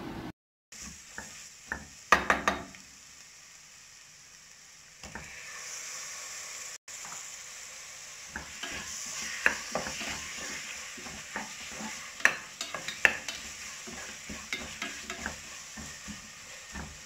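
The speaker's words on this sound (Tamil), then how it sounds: "இது எல்லாத்தையும் போட்டுட்டு நல்லா வதக்கிக்கலாம்." Garam masala and other spice powders being sautéed in a pan, a soft continuous sizzle beneath intermittent stirring scrapes and light ticks of the spoon, close and fairly quiet, with no talking.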